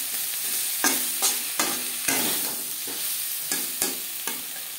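Winter vegetables, including cauliflower, stir-fried for khichuri: a loud, close sizzle with rhythmic spatula strokes scraping the pan about every half second, and no talking.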